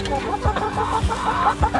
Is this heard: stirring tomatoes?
no